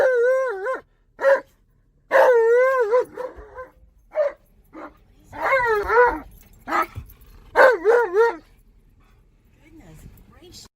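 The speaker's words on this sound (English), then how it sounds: "Rose growling at something. I've never heard Rose growl." A Malamute dog gives a run of close, loud barks and whining, howl-like yips with rising and falling pitch, separated by short silences; the calls trail off into quieter rumbling near the end.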